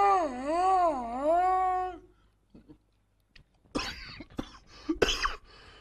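A person coughs a few times at close range, loud, sharp bursts following a long sustained wavering tone, with brief quiet gaps between.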